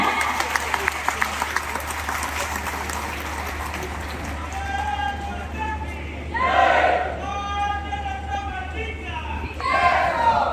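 An audience at a ground-breaking ceremony for a palkhi route applauds Union minister Nitin Gadkari. Dense clapping swells in waves and mixes with crowd noise and faint voices.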